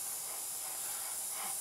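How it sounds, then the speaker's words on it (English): Airbrush spraying aircraft-colour paint onto a Revell 1/48 Junkers Ju52/3m model, a steady close hiss of air and paint with no pauses. "Lightly spray on."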